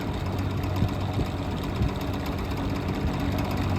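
A vintage box fan running at high speed, about 2000 RPM, gives a steady, dense whooshing roar with a low rumble beneath it, constant and close for the whole stretch with no talk.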